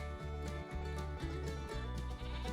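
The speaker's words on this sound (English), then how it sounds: "Look at the goats." Goats bleat repeatedly in short, wavering cries, fairly close, with no talking.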